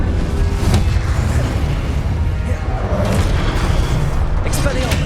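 Blasting Confringo spell explosions in Hogwarts Legacy combat: loud, heavy booms with sharp bursts riding on a dense, continuous low rumble throughout.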